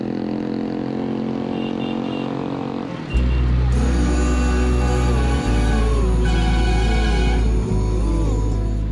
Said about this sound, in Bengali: এটা স্কুটি না সুপার বাইক?